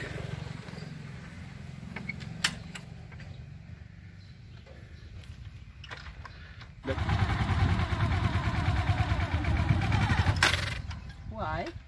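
A manual-clutch motorcycle engine hums faintly at first, then rises into a louder, rougher running note during riding practice, with people talking over it throughout.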